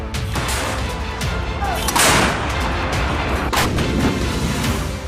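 An artillery gun fires with a heavy, loud blast that rolls into a sustained, rumbling roar, dense and powerful throughout.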